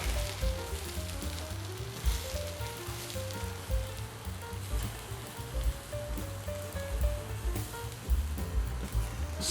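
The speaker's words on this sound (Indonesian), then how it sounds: "Kita balik sekali lagi. Ini ayam kita udah mau mateng." Chicken pieces sizzling on a GMC electric grill, a loud close crackling hiss with uneven spitting pops and small surges throughout, heard alone without talk.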